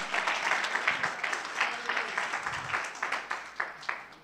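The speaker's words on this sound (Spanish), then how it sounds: "Dele más fuerte el aplauso al Señor en esta hora." A church congregation applauds at an evangelistic service, a dense, fairly distant clapping crowd with rhythmic pulses swelling and easing, and no talk over it.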